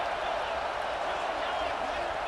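A stadium crowd in the EA Sports College Football 26 video game roars steadily throughout as the home fans rise up, while a commentator's voice comes through over the crowd.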